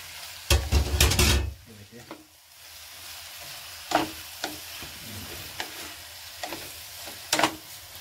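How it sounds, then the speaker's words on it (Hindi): Chopped green and red chillies dropped into a hot pan for a desi bhindi-tomato tadka, a loud burst of sizzling at first that settles into steady frying with occasional stirring scrapes, close up and without speech. "इसमें मैं जो मैंने हरी मिर्ची और लाल मिर्ची काटी थी वो डालूंगा इसमें"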